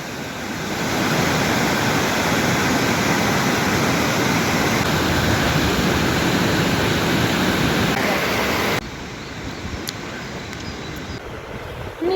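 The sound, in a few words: waterfall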